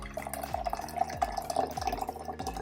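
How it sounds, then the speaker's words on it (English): Hot water poured into a jar for a clouds-in-a-jar experiment, close bubbly gurgling pour with rhythmic glugs, no talk. "You're going to take your hot water, and you're going to pour it into the jar"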